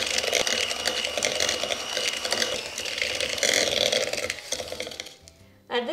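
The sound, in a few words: electric mixer mixing butter with sugar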